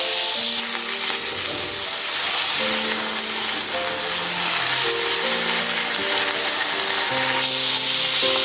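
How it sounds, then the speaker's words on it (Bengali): Flat beans with salt and turmeric sizzle steadily in a hot pan, a constant bright hiss with faint musical tones underneath. "নুন হলুদ দিয়ে সিমটা ভাজা হয়ে গেছে"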